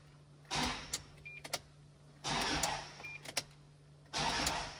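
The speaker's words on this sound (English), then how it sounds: "I will crank it first because maybe the belt jump." A Toyota Hilux engine is cranked after an alternator replacement, with three separate bursts of starter whirring, each lasting about a second or more with brief uneven surges, none catching, close up.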